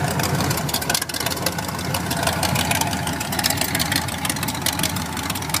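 A 1928 Ford Model A engine runs at a steady, even idle, close by, its low rumble and faint ticking constant throughout with no talking.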